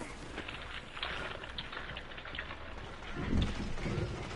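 Rain hisses steadily in a Destiny 2 multiplayer match, with a low rumble of thunder swelling near the end, all fairly faint and continuous.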